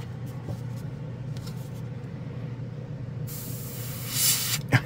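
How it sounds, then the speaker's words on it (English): A steady low hum runs throughout, then a soft spray hiss from a Master Airbrush Model G79 begins partway through and continues to the end, with a brief click near the finish. "Let's see how fine we can get this to spray."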